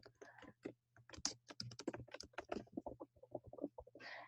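Rapid clicking keystrokes on a computer keyboard while typing code, irregular bursts of close, crisp taps with a low steady hum underneath.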